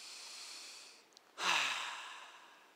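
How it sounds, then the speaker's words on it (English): Slow, deep breathing during a guided relaxation exercise: a long, airy exhale fades out, then after a short pause a fuller breath rushes in and trails off, close and alone. "Feel your deep breaths, become aware of breathing."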